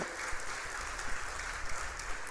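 A church congregation claps during a sermon, a soft, steady wash of applause heard from a distance in a large room, without voices.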